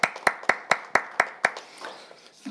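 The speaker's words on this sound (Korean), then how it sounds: "하나님께 감사와 영광의 박수 올려드리겠습니다" A congregation at a divine healing meeting claps in praise, seven sharp, evenly spaced unison claps ringing out loudly before the rhythm breaks into scattered, fading handclaps.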